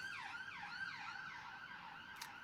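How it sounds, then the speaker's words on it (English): An ambulance siren passes outside, wailing in steady rising and falling sweeps; it sounds distant and muffled, with no talking. "Got an ambulance."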